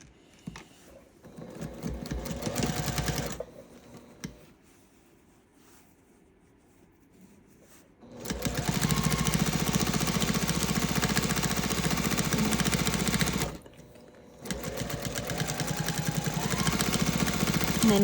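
A sewing machine stitching a quilted gift bag runs in three steady, buzzing stretches with quiet pauses between them, close and alone.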